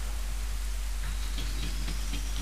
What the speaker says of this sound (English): Oh, rain, dark clouds.